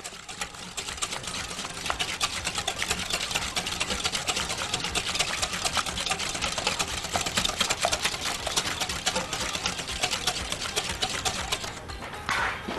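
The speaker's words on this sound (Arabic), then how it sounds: "هضرب كده لغايه ما احس بقى ان السكر خلاص داب" An electric mixer beats sugar until it dissolves for a quick chocolate cake, a steady, close motor whir with a fast buzzing pulse that runs unbroken for the whole stretch.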